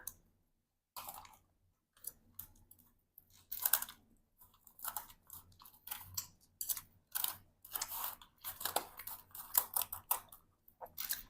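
Someone eating chili with fish sauce, close crunchy chewing and biting in irregular bursts separated by quiet pauses, with faint clicks.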